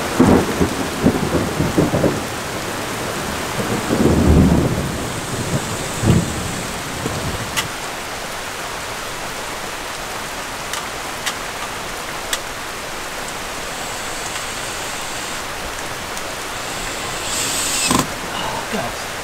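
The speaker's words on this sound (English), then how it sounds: "It's raining like crazy." Heavy tropical rain pours steadily during the Bali rainy season, and thunder rumbles loudly in the opening seconds before the downpour settles into a constant hiss, broken by a few sharp creaks and cracks.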